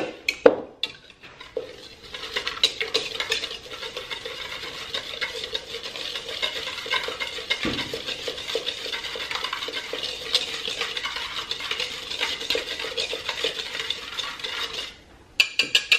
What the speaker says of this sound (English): We're going to go ahead and whisk these together to combine them.